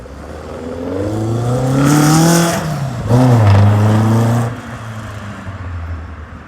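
A Caterham 7 with a Cosworth BDR engine warms up and revs, the note climbing in two loud swells before settling back to a steady idle, close by in a workshop.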